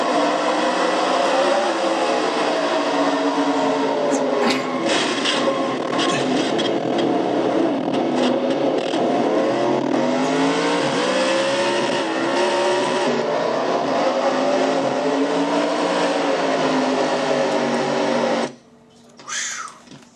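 Racing engine of a Castrol GTX Cup Series car running the Air Guard 400, loud and continuous from the onboard cockpit with steady revving and shifting pitch, cutting off near the end.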